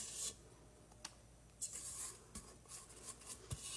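Faint scraping of thick brownie batter out of a bowl, soft rubbing strokes with a few light clicks of utensil against the bowl.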